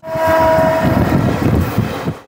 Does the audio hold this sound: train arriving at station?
yes